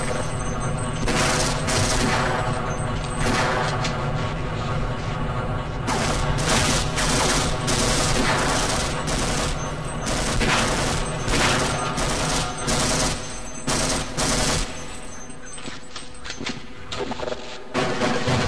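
Dense, sustained video-game gunfire from Half-Life, loud and continuous for the whole stretch with bursts layered over one another and a player's voice shouting now and then.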